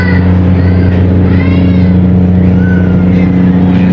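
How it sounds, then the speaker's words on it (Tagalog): A ship's engine rumbling loudly and continuously nearby, a deep steady drone with a low hum throughout. "Tumataguntong na yung makina."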